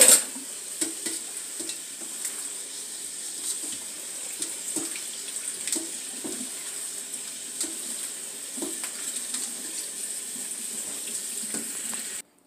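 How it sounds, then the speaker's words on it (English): Collard greens being washed under a running kitchen tap, a steady stream of water hissing into the sink with soft splashes and irregular knocks as the leaves are handled, continuous and close with no talking. "So I'm going to wash these greens."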